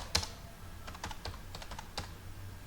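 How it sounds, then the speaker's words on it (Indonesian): Close, irregular keystrokes on a computer keyboard while HTML code is typed, sharp clicks in quick uneven bursts with short pauses, no voices. "Saya hanya mengetik begini aja, ini adalah contoh."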